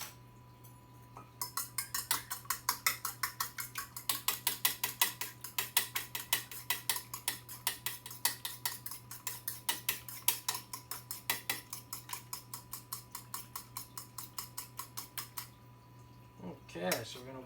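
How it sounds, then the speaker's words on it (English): An egg being whisked in a bowl on a Frigidaire Gallery induction cooktop, a steady run of quick metallic ticks and clinks lasting about fifteen seconds over a constant appliance hum. "Let's whisk this together."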